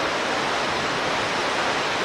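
Victoria Falls waterfall between Zambia and Zimbabwe, a dense, steady, loud roar of falling water filling the whole moment with no change and no voices.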